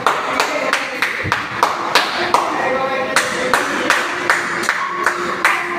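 Repeated crisp hand claps, fast and slightly uneven, trying to switch on a clap-activated lamp in a Digha science centre; close and prominent over a soft room hum and distant voices.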